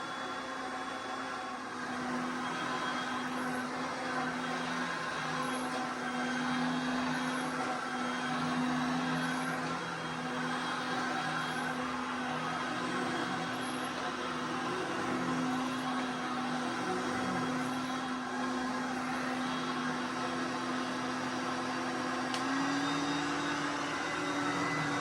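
A 1979 JCPenney self-propelled upright vacuum cleaner runs steadily, a close, constant motor whine with a firm tonal hum and airy hiss that holds unchanged throughout.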